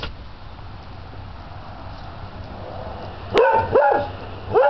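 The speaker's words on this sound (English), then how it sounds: "Minnie, stop barking!" A puppy dog barks outdoors near mud: three sharp, fairly close yaps in quick succession over a low, steady background hum, with no talking.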